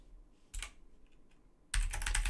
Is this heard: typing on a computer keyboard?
yes